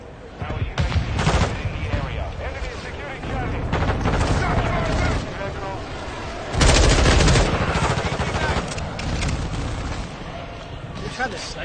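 Dense, loud gunfire in Call of Duty Warzone 2: rapid bursts of automatic weapons and heavy booms overlapping almost continuously, with a player talking over the action.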